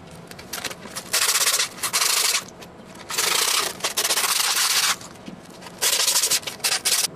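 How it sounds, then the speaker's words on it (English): Leftover skateboard grip tape is sanded down along the board's edges in bursts of harsh, close rasping strokes separated by short pauses. "I like to take the extra grip tape and sand down the edges"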